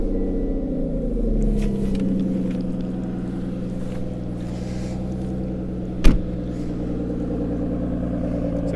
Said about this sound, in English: There is no car that sounds quite like a V12 Aston Martin, even on tick over